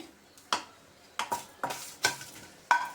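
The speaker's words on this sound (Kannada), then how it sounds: "ಮೆಣಸಿನ್ಕಾಯಿ ಹುರಿದಾಗಿದೆ ಇದು ಕೂಡ ಚಿಟಿ ಚಿಟಿ ಅಂತ ಇದೆ" Green chilies roasting in a hot pan give off sharp, scattered crackles and pops, about six distinct bursts over a low sizzle, with no voices.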